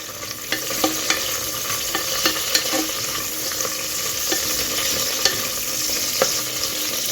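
Masala paste frying in a pan for veg biryani, a steady sizzle with sharp scraping clicks as it is stirred, close and fairly loud.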